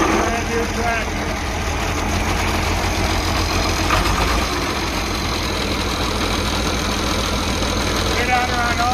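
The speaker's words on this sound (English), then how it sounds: "Runs like a brand new tractor." International 666 tractor engine running steadily close by, a loud, even diesel rumble with a knocking pulse; someone talks over it throughout.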